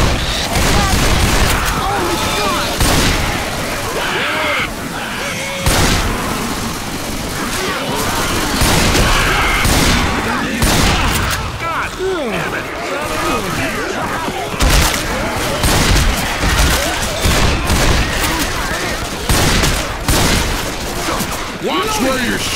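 Loud, chaotic video game gunfire: rapid bursts and sharp single shots crackle nonstop amid crashes and impacts, with shouting voices mixed in throughout.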